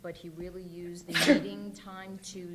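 A single sharp sneeze bursts out in the middle of a man's steady speech at a school board meeting.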